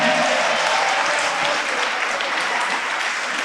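A church congregation applauds in a loud, dense and steady wash of clapping that runs the whole time, with no voices standing out.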